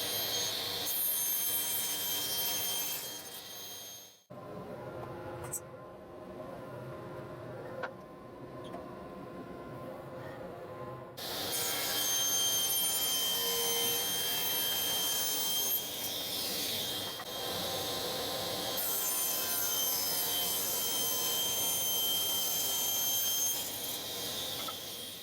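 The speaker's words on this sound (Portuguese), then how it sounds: "é hora de ir para a serra de bancada começar os cortes" A table saw runs steadily through wood, a loud continuous high whine with a short drop partway through before the cutting resumes, heard alone.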